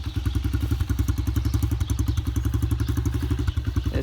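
A Honda CRF70F motorcycle engine running close by, with a fast, even thumping putter that holds steady throughout.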